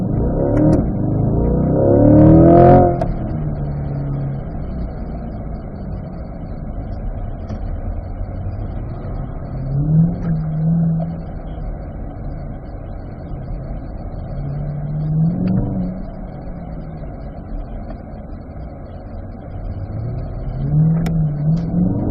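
A Corvette on the Spring Mountain circuit during an owners' racing school, its engine droning steadily with repeated swells as it accelerates out of corners, loudest near the start, without talk.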